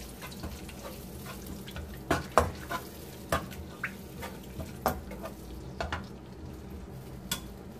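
Ground shallots stir-frying in hot oil on an electric stove, a low continuous sizzle punctuated by repeated sharp scrapes and clinks of a spatula against the pan at irregular intervals, no speech.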